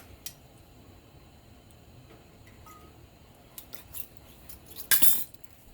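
A spoon stirs collard greens with apple cider vinegar in a pot, giving a few sparse, light metallic clinks over quiet kitchen background, with a brighter cluster of scraping clatter near the end.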